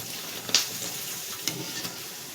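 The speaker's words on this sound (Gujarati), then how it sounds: "ભૂંગળા તળે છે." Bhungla fryums sizzle in hot oil for homemade chevdo, a soft, steady hiss punctuated by a few sharp crackles and pops, close and fairly quiet.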